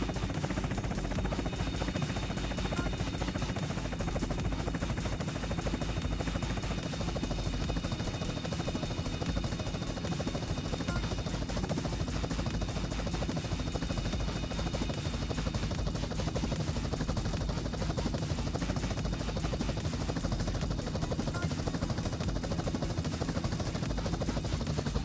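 A helicopter flies in a video game, a dense, steady rotor and engine drone that holds loud and unchanging for the whole stretch, with no voices over it.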